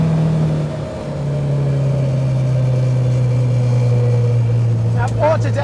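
Alfa Romeo Giulia GTAm engine droning steadily under throttle in the cabin, a sustained low hum with shifting pitch, loud and continuous, ending with a brief rising rev.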